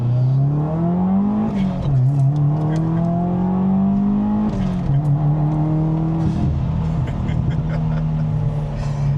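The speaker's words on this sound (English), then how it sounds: "I love that exhaust note" A Subaru WRX's engine revs hard through several rising pulls, dropping between gear shifts, its throaty exhaust droning loud and close throughout.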